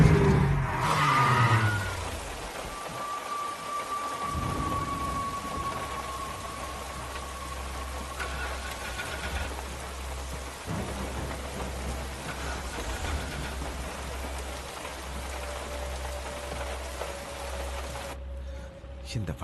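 Steady rain falls in a forest, a constant hiss that runs throughout, with a low engine hum underneath and a few brief tonal sounds; no clear thunder stands out.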